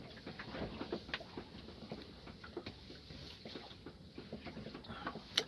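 Wind and rain lash an anchored sailboat during a night-time storm. A steady, faint wash of rain patter and gusts carries scattered ticks and taps on the boat, with no voices.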